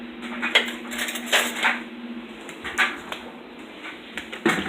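A metal spoon is fetched while making keto coffee, with repeated light cutlery clinks and rattles close by, scattered across a few seconds.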